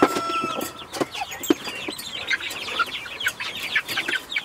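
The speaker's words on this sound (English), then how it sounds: "Those two roosters weren't having all the little roosters in here." Several roosters and chickens cluck, squawk and scuffle close by in a busy, overlapping flurry of calls that carries on throughout, with no talking.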